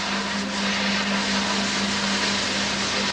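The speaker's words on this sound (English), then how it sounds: "the sound you hear in the background is that of the unit changing DC to AC" Steady electrical hum with a strong tonal band and broad noisy hiss from a power inverter converting DC to AC in a research lab running Brown's gas equipment, continuous and fairly loud with no talking.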